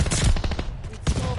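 Loud, fast automatic gunfire in a first-person shooter video game, a dense burst of rapid shots, a brief gap, then another short volley, close and punchy.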